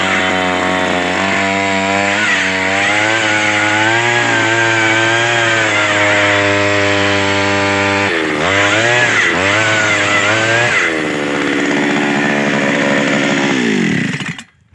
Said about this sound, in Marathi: हे पाहू शकता आपण आता मशीन स्टार्ट केलेली आहे